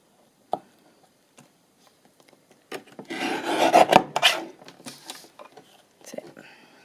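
A paper edge being trimmed off a diagonal wrap-around tab pocket, heard as a close, steady rasping cut lasting a few seconds, bracketed by small taps and handling sounds.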